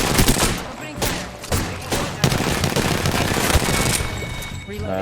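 Sustained automatic gunfire in the battle royale video game Apex Legends, dense overlapping shots and bursts with a heavy boom or two, loud and close throughout a chaotic firefight.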